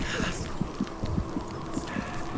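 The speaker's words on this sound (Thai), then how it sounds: "หัวใจเต้นด้วยว่ะ" A heartbeat sound effect thumps in the snowboarding game Steep, a steady run of soft low double beats at a quick pace under a constant wind-like hiss and game ambience.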